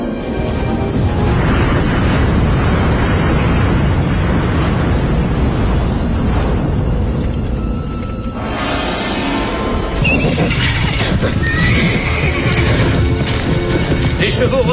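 Horses neigh and whinny with stamping hooves, loud and close, as they balk at going further amid a roaring, surf-like wash of noise in a dramatic adventure scene.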